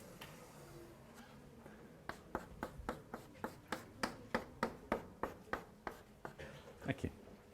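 Marker or chalk strokes on a board in a calculus lecture: a run of about fifteen sharp, evenly paced taps and scratches, close and distinct over faint room noise.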